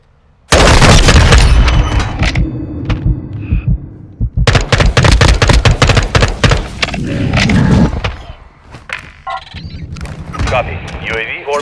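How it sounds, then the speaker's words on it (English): In Call of Duty: Modern Warfare II, a demolition charge detonates with a sudden loud blast and heavy rumble, followed by a second burst of booming and gunfire-like cracks, with voices talking over the action. "set the charge on the target and detonate it"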